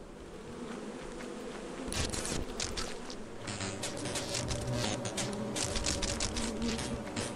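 Circuit bees from the Lethal Company video game buzz steadily throughout, with a dense, sustained drone that swells louder about two seconds in and stays strong to the end.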